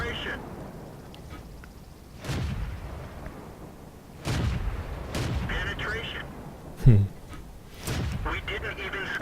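Tank cannon fire in the World of Tanks video game from an AT2 tank destroyer, a series of heavy booming shots at a steady rate, some close and punchy, over a low battle rumble with a voice talking throughout.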